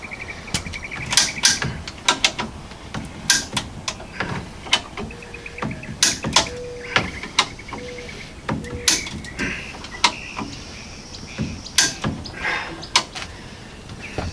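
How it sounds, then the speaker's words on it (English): A come-along winch ratchets as it pulls the frame rail of a 1995 Ford F250 straight: sharp metallic clicks and clanks come in an uneven run of bursts, with occasional faint creaks between them. "I got the come along hooked up. Let's try this. Aha, it's working."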